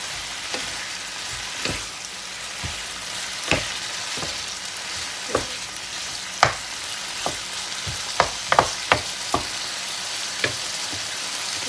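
Broccoli is stir-fried in a hot pan for soy-sauce chicken with konjac noodles, giving a constant loud sizzle broken by repeated scraping stirs and clacks of the utensil at irregular intervals, with no talking.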